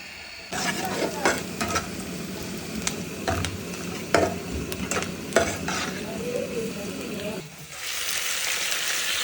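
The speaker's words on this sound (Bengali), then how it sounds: "তারপরে মরিচ পেঁয়াজ দিয়ে আবার বাগার দিব।" Greens tempered with chili and onion in hot oil, loud sizzling with repeated sharp scraping stirs of a spatula in a pan, close up, then a steadier hiss at the end.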